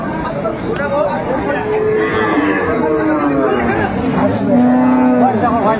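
At a crowded livestock market, cattle low in several drawn-out moos, one after another, over a steady background of people's chatter and crowd babble, loud and close throughout.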